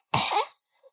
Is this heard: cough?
yes